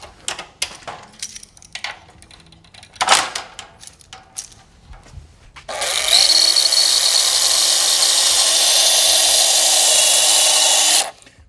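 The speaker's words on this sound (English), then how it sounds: "we'll take this thing back apart and drill all the holes for mounting" A power drill bores mounting holes in a part for a 2014-17 Toyota Tundra: a loud, steady, high-pitched whine holds for about five seconds, preceded by scattered clatter and knocks from handling.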